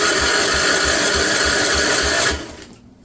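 A 1958 Wisconsin AENLD engine runs loud and close with a fast, regular chuffing beat for about two seconds, then cuts out and fades away.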